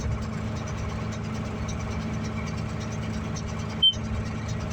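A tractor engine runs steadily at about 1700 RPM while a Vermeer 605K round baler ties off an alfalfa bale, giving a constant mid-pitched drone with a brief click near the end.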